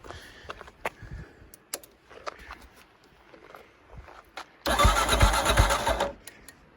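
Kawasaki KLR650 single-cylinder motorcycle fitted with a cheap $50 dual-outlet eBay muffler, cold-starting: scattered clicks and footsteps, then a loud close engine cranks over and fires for about a second and a half before cutting.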